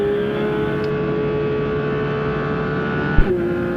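Porsche 992 GT3 RS on a wet Spa-Francorchamps track, its engine a steady sustained drone heard from inside the car, with a brief thump near the end and no talk.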